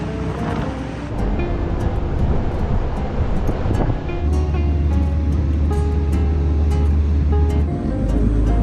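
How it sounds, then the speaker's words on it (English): Strong wind buffets the microphone aboard a Dutch barge, a constant loud roar with low rumbling gusts, water washing around the hull and faint tonal hums throughout, with no voices. "So much wind."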